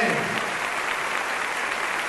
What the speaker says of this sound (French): un fort applaudissement pour vous tous